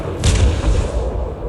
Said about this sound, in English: station just destroyed that ship